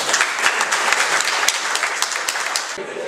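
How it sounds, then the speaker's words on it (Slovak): A crowd claps at an awards ceremony, a loud, dense burst of applause that stays steady and then thins out toward the end. "Takže veľký potlesk ešte raz pre vás."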